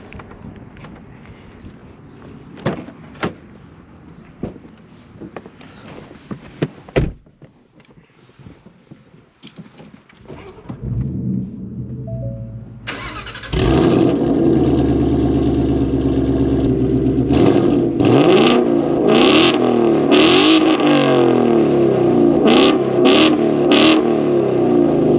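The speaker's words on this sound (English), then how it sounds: "Aggressive sounding startup, that's for sure." A 2021 Ford Mustang Mach 1 with a 5.0 engine and Corsa exhaust starts up after some clicks and handling noises: the starter cranks, the engine catches with a loud roar, then settles into a steady, deep idle broken by sharp revs.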